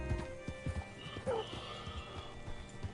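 Horse hooves clip-clop in the western video game Red Dead Redemption 2, a moderately close, uneven patter of steps over a low ambient bed, with a brief whinny-like sound partway through.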